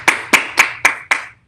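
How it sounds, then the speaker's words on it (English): Five sharp, evenly spaced hand claps at a Sabbath service, crisp and close, in a steady rhythm that stops after about a second. "let's clap it up."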